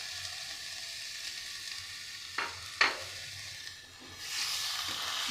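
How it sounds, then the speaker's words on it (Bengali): Boiled potatoes and a green chilli sizzle in frying spices in a pan, with a soft steady hiss broken by a few sharp scrapes and clinks of stirring. "আমি ভালো করে একটু নেড়ে, মশলাটা ভালো করে ভাজা হয়েই গিয়েছে"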